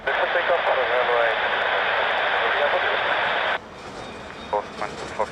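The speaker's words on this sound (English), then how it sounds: "This is takeoff for the runway." A jet airliner roars loudly and steadily during its takeoff run on runway 20 at Lisbon Airport, the dense broadband engine noise cutting off abruptly, followed by quieter background with a few short bursts of distant radio chatter.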